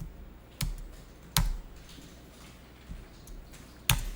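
Keys tapped sparsely on a computer keyboard during accounting-exam data entry, with a few sharp isolated clicks including a firmer Enter press, close and quiet against a low room hum.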